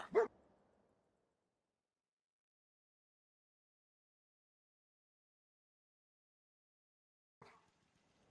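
Dogmeat, the dog companion in Fallout 4, gives a single sharp close bark at the start, then long silence and a fainter short yelp near the end.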